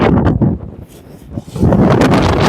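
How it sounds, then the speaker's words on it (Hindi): Strong gusting wind in the Himachal hills at Naddi buffets the microphone in loud, rough bursts that dip briefly before roaring back. "बहुत तेज तूफान जैसी हवा चल रही है यहाँ पे"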